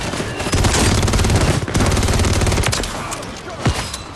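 Loud sustained bursts of rapid automatic gunfire in the shooter game Call of Duty Warzone 3, close and dense, tapering off into a few scattered shots near the end.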